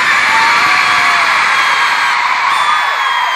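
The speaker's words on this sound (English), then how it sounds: "you are the loudest crowd that we've had so far in North America" Huge stadium crowd at a concert in North America, cheering, whooping and screaming in a dense, loud, sustained roar.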